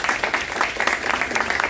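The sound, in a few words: audience applause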